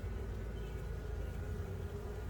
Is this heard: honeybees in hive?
yes